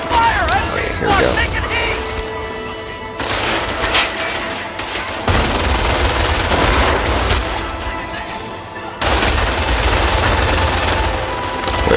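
Enemy gunfire in the Company of Heroes World War II strategy game, with loud continuous bursts of rifle and machine-gun fire and booming artillery-like blasts that fill the scene in dense, overlapping volleys.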